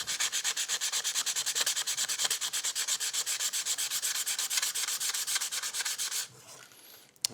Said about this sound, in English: So sanding with the grain,